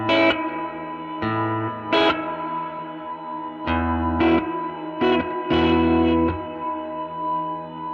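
Guitar notes ring out through a Meris Mercury X reverb pedal, each chord trailing into a lush, washy tail with shimmering echoes between strikes; steady and fairly loud, no talking.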